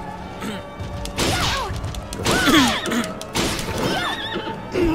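A horse in the video game Bloodstained: Ritual of the Night whinnies several times in quick succession, loud and close, with shrill rising and falling neighs over some thumping and clattering.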